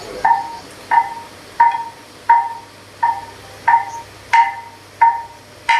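Nine evenly spaced metallic strokes on a Shan gong, each clipped short by a damping hand, leaving a brief ringing tail with a slight wavering at the end.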